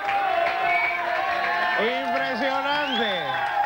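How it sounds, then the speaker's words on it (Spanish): A television studio audience applauds and cheers for magician Leonid Filatov in a steady, dense wash of noise while someone talks loudly over it. "Y este aplauso es para Leonid Filatov."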